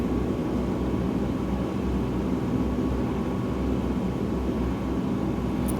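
A DHC-4 Caribou twin-engine propeller transport drones in Microsoft Flight Simulator 2020, a loud continuous low cabin rumble with a steady engine hum and no talking.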